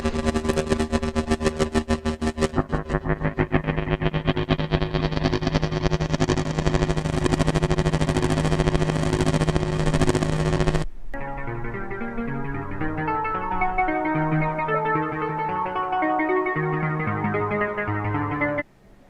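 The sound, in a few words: Korg NTS-1 synthesizer preset sounds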